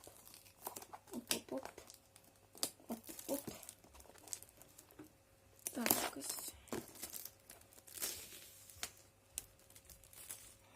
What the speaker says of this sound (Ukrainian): Так приятно знімати пленку.